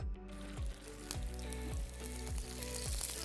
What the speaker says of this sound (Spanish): por último vamos a saltear nuestros ejotes con aceite de oliva